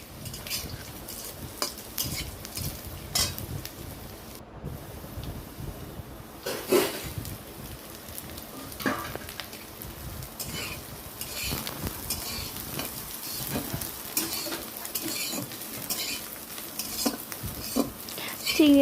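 Prawns fry in oil with onion and chilli while a utensil scrapes and stirs against the pan, a steady close sizzle broken by frequent clinks and scrapes, with no talk.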